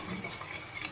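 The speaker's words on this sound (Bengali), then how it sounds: "যতক্ষণ না মশলা থেকে আদার কাঁচা গন্ধটা চলে যাচ্ছে ততক্ষণ আমি মশলাটাকে ভালোভাবে কষিয়ে নেব" Spice masala being stirred and fried in a pan for coriander chicken, a soft continuous scraping and low sizzle with faint utensil clinks, steady and close throughout.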